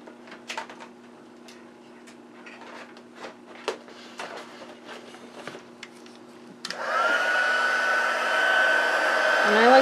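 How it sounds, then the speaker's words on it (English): An embossing heat tool switches on partway through, its hot-air blower starting with a rising whine and settling into a loud steady roar, preceded by faint scattered clicks and handling on a crafting surface. "Now let's bring in the heat tool."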